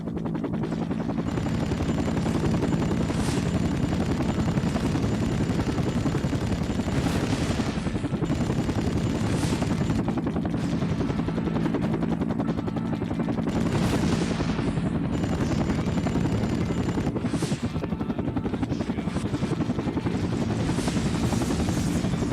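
A Cobra attack helicopter in the Vietnam War game Air Conflicts: Vietnam, its rotor thumping loud and constant under repeated bursts of machine-gun fire and gunshots, with no voices.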